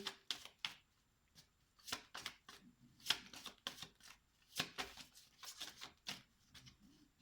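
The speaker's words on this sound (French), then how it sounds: "Je vais les mélanger parce que je m'en suis servi avant. Je vais faire un bon mélange." Tarot cards being shuffled by hand, close and quiet, with repeated short riffling bursts and soft slaps in an uneven rhythm, separated by brief pauses.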